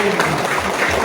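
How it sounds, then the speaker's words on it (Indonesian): Audience applause at a 2022 Christmas celebration in Cianjur, honoring a Mandarin choir; a brief, dense wash of clapping heard close and steady. "saya minta satu kali lagi tepuk tangan buat Padus Mandarin"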